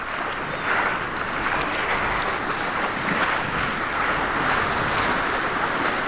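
Ocean waves break and wash along a beach, a steady broadband surf roar that swells gently over several seconds, mixed with wind, fairly loud and without voices.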